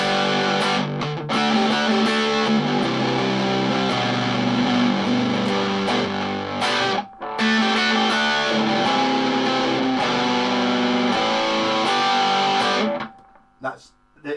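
A Jennifer Armstrong Explorer electric guitar plays a riff through heavy distortion, sustained loud overdriven chords ringing for several seconds with a brief break midway, then fading out at the end.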